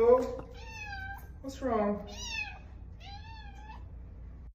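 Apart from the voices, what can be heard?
cats meowing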